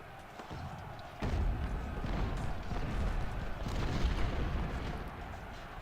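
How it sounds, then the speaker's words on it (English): Artillery volley in Ultimate General: Civil War, a loud rumbling burst of cannon fire that swells abruptly and holds as a dense, continuous roar of overlapping blasts. "One volley."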